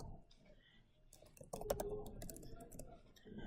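Computer keyboard keypresses for a Control U shortcut, a few soft quick clicks and taps close by, faint and brief, with low murmuring in the background.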